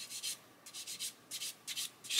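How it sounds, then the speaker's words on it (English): Soft rhythmic rubbing strokes of a sanding sponge on a round plastic model chassis part, about six short passes, close and fairly quiet. "just come in and gently sand that."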